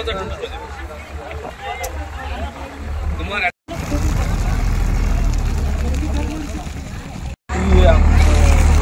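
A motor boat pulls away from a river ghat carrying passengers, its engine a steady low rumble under crowd babble and nearby talk, with two brief cutouts and a louder engine surge at the end.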